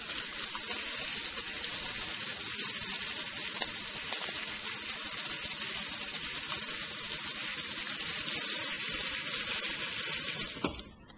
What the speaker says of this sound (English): I'm going to show you what happens first when you run hot water over it.